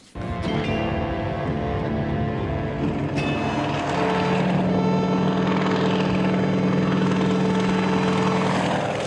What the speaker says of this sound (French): L'avion, c'est un Antonov AN-02, un appareil russe de transport.